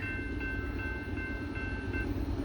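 Norfolk Southern train NS 278 rumbling toward a railroad crossing, a low steady rolling drone with a faint repeating ding of the crossing bell above it, no voices.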